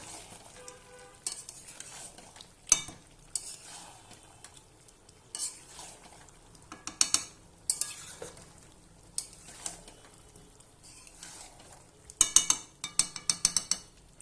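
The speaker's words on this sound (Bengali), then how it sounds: "এবার আমি পটল আর আলু দিয়ে দেবো, দিয়ে ভালোভাবে কষাবো" Chicken being stir-fried with pointed gourd and potato in a pan, quiet sizzling broken by sharp spatula scrapes and metallic clatters against the pan, clustering in bursts toward the end, close up with no voices.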